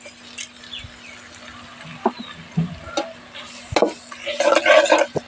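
Ginger-garlic paste and browned onions fry in a pan for bhuna khichuri, with scattered utensil clinks and scraping from stirring that build into a louder, denser sizzle toward the end.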